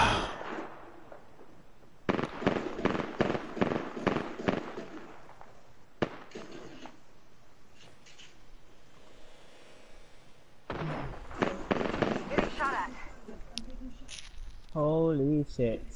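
Gunfire in the Apex Legends video game, rapid bursts of shots in clustered volleys with pauses between them, loud and close, while a player talks over parts of the action.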